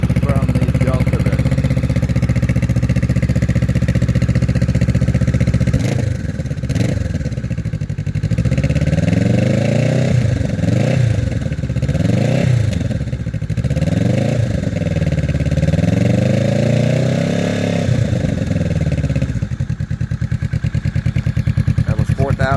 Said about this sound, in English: This is my 2019 Kawasaki Vulcan S, now with the Musarri exhaust.